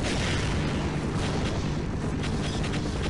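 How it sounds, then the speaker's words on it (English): A rocket launcher firing and exploding in Half-Life, a loud, continuous roaring blast with rumbling booms and no talking. "I'm gonna launch a rocket at those stars."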